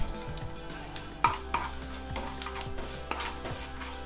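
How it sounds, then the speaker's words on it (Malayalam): Cumin seeds sizzle in hot oil in a pan while a spoon stirs and scrapes, with soft crackling and occasional clinks throughout, close and steady. "ഇനി ഇതിലേക്ക് ജീരകം ചേർത്ത് കൊടുക്കാം"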